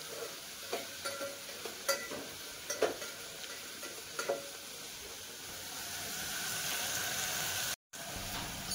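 Onion and potato frying in oil in a pan, a low steady sizzle punctuated by several sharp spoon knocks and stirs early on, then a smoother rising fry with a brief dropout near the end.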